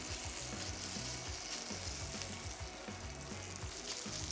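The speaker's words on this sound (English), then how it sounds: "I'm going to add some of the meat and get a nice little char on it" Pieces of birria meat sear in a couple of tablespoons of hot olive oil in a pan. A steady, close sizzle with soft crackles runs throughout without any voices.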